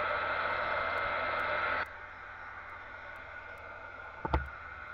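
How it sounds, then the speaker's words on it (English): A steady hair dryer blows with a broad airy whoosh, then cuts off abruptly, leaving faint room noise and a brief knock. "Sorry about the dryer noise. I'm going to dry it for just a second."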